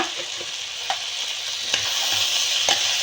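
A spoon stirs chili powder through a sizzling pan of green gram curry, giving steady close frying hiss with a few sharp scrapes and clinks against the pan and no talking.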